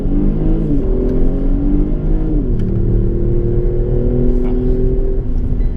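A Kia Stinger accelerating around Wakefield race track in Australia, its engine loud and close with rising and falling revs across gear changes, a continuous droning roar.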